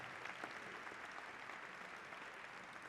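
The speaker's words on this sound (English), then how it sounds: "Round of applause for Congresswoman Lauren Underwood." Applause from a large audience at a political brunch fills a big room, a steady, even wash of many hands clapping, heard at moderate distance and not very loud.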